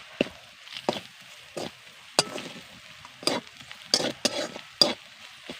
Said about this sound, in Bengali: এবার সব কিছুকে ভালো করে মিশিয়ে নেব